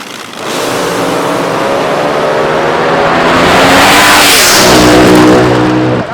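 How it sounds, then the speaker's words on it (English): An AA/Fuel dragster at a nighttime drag strip blasts out a loud, close engine roar that builds steadily in intensity and pitch, holding a harsh pounding rasp before cutting off abruptly. "car is pounding the air down here on the right side"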